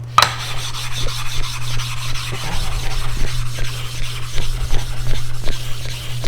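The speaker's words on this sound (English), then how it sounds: "if we were sitting here systematically flattening all the stones in our arsenal" Sharpening stones being flattened by rubbing on the rough side of a double-sided lapping plate, a steady gritty rasping scrape with repeated back-and-forth strokes, close and continuous under a constant low hum.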